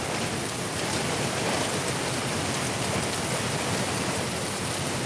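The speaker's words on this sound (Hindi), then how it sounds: "और देखिए पूरा बारिश एकदम बहुत ही बढ़िया हो रहा है।" Heavy rain pours down in Darbhanga, a thick, even hiss of drops drumming on surfaces that holds steady throughout, with no clear thunderclap standing out.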